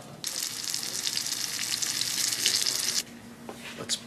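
Sliced apples sizzling in a hot pan, a steady broadband frying hiss that runs loud for about three seconds, then drops to a quieter sizzle with a couple of brief spits near the end.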